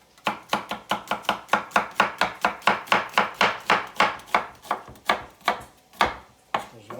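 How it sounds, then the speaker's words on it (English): A kitchen knife julienning an onion into very thin slices makes a fast, steady run of crisp chopping knocks on a cutting board, about two dozen close strikes with a brief pause near the end. "we're going to julienne the onion, which julienne means to slice into very thin slices"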